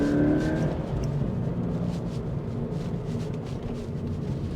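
A Toyota GT86 sports car engine droning and building steadily in the background while accelerating, a continuous low rumble with no talking.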